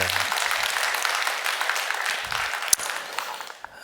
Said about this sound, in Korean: 감사한 마음을 담아서 우리 박수 한번 하시겠습니다.